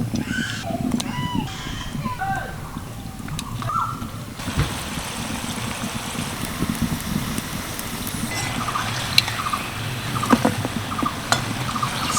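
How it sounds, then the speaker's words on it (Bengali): Singara pastries deep-fry slowly in oil on low heat, giving a steady, soft bubbling hiss that runs throughout with a few faint chirps early on. "সিঙ্গারাগুলো যাতে খুব ভালোভাবে খাস্তা হয় তার জন্য আমি একদম লো আছে ভেজে নিচ্ছি"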